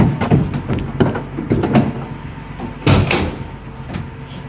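Rear cargo doors of a 2018 Ford Transit T-250 mid-roof short-wheelbase van swing open with several close metallic clunks and latch knocks, one sharper thud near the end, no talking.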